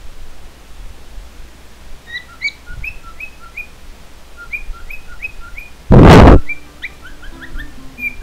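Small bird chirping outdoors in a series of short, bright tweets and calls, moderately close, with a brief loud burst of noise cutting through the middle.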